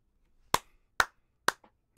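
Three sharp, isolated hand claps spaced about half a second apart, close and crisp against an otherwise quiet background.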